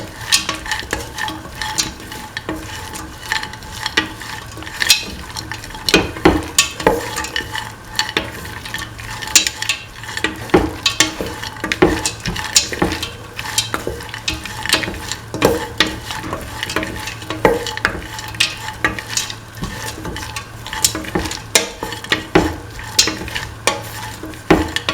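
A spoon stirs kidney beans into a snake gourd and coconut milk stew in a pot, giving steady close scraping and clinking over a constant low sizzle that runs throughout without pause.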